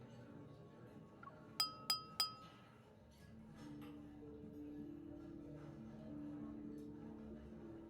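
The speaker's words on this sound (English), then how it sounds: "the crisp sound of clinking glasses captures everyone's attention" Three crisp glass clinks ring out in quick succession aboard a ship's hold in a video game, standing clear above a low murmur of ambient background noise and muffled chatter.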